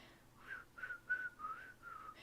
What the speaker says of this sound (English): my whistling's just not working today